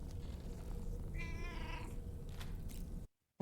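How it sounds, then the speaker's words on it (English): A cat lets out a single drawn-out, wavering meow lasting under a second, faint and set against a low steady rumble, before the sound cuts out abruptly. "Is that a fucking cat right now?"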